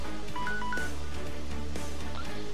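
Telephone dialing beeps sound as a game alert in Crusader Kings II: a few short, bright tones over steady background music, with no talking.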